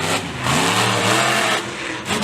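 A loud, rough monster truck engine sputters, rumbling and revving unevenly, surging and dipping over a couple of seconds at a speedway show, with no voices.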